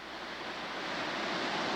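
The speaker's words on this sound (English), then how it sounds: "it's this whole coastal section of rocks and water, and this is really nice." Surf washes against the rocky shoreline of Hunter's Beach on the Maine coast, a steady broadband rush of water that builds slightly, close and continuous with no voices.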